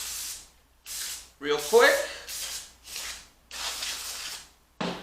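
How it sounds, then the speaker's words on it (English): Brake cleaner sprayed onto a Ford 5.0 small-block Windsor crankshaft before installation, heard as several short hissing aerosol bursts close to the mic with someone talking between them. "We will hit it with brake clean"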